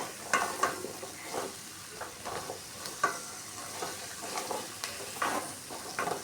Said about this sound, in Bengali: সব সবজি আমরা প্রথমে ভেজে নিব একটু সময় নিয়ে ভালো করে ভাজতে হবে